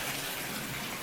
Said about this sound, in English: just turn on the hot water so you can see that it runs very well